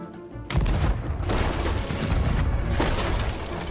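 Ship cannons fire in the pirate game Sea of Thieves, heard as dense, rumbling booms that roll into one another and fill the whole stretch, loud and continuous.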